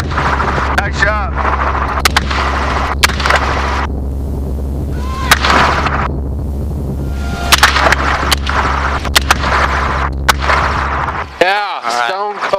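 Gunfire during a helicopter hog hunt: a run of sharp shots at irregular intervals over the loud, steady drone of the helicopter, with people talking over radio headsets.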